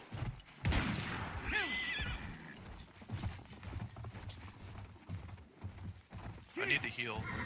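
Galloping horse hooves clop rapidly in a Battlefield 1 match, joined by a couple of loud neighs and scattered gunfire, with a player talking over the action.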